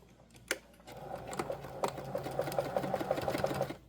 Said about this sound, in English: I'm going to stitch all the way from one end to the other